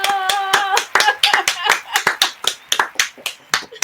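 Close, loud hand clapping comes from a small group in a lively, uneven rhythm, with sharp individual claps standing out as a voice speaks and sings over them.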